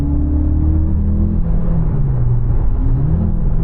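Audi Q3 engine idling steadily after starting, a close, continuous low rumble with a slight shift in pitch partway through, no voices over it.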